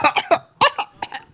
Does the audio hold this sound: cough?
yes